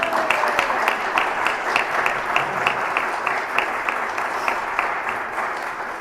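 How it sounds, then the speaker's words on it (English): Steady applause from a crowd, many hands clapping continuously and fairly loud for the whole stretch. "round of applause for David."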